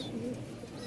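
Rajshahi Giribaz racer pigeons coo in low, throaty, rolling tones that carry steadily through the moment, with a faint murmur of voices in the background.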